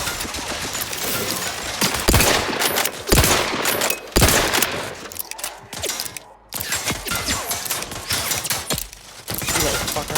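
Turrets firing in Outer Worlds 2, rapid dense bursts of gunfire mixed with mechanical clanks and shattering impacts, loud and continuous with brief gaps, speech faintly mixed in.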